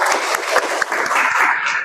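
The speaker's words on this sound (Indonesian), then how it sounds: "aplaus untuk kita semua" Indonesian classroom of students applauding together, a steady dense patter of many hands clapping at close range for about two seconds with no talk over it.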